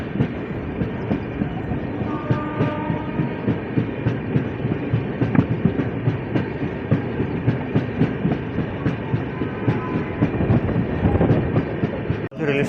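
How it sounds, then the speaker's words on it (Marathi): Amravati Superfast Express train rolling at an easy pace along a single-line track, heard from onboard as a steady rumble with rhythmic clickety-clack of wheels over rail joints, ending in a brief knock. "गाडी आरामसे जात आहे काऊन की एक तर सिंगल लाईन त्या कारणामुळे"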